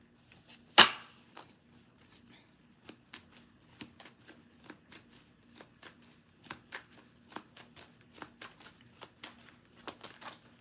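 Tarot cards being shuffled and pulled during a live reading: one sharp loud riffle near the start, then a long run of soft, quick card flicks and snaps at a steady, irregular pace, close and alone.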